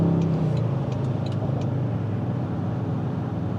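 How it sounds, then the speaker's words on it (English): A 2024 Toyota Tundra Hybrid Platinum CrewMax 4x4 pickup drives along a road, heard from inside as a steady, loud cabin rumble of engine and tire noise with no talking. "driving on this type of road, not really a problem"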